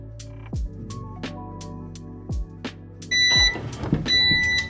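A skinny tumbler cup heat press timer sounds a series of loud electronic beeps near the end, following several low thumps and clunks from the press.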